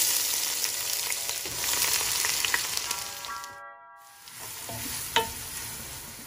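Onions fry in oil with bay leaves while a Goan ox tripe dish is made: a continuous hissing sizzle with light stirring, a brief silent gap midway, then the frying resumes.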